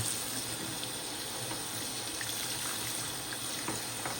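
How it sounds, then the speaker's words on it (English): Bathroom tap running steadily, a loud continuous rush of water splashing into the sink with no talking. "Gonna turn on some water"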